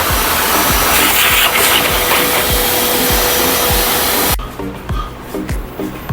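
Vacuum cleaner running steadily close by while cleaning out a commercial laundry dryer, a loud continuous whine and rush that drops sharply in level near the end as the nozzle shifts.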